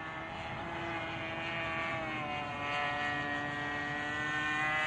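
Steady electric motor whine of a Seagull Models PC-9 radio-controlled model airplane in flight, a continuous droning tone with stacked harmonics that holds level throughout, moderately distant and unbroken.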